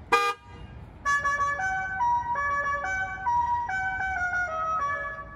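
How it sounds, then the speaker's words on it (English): Tesla car horn gives one short blast, then a custom melodic tune of bright, stepped electronic tones plays loud and close, with no talking. "So this thing has extra features on its horn. It has a standard horn, but it follows it up."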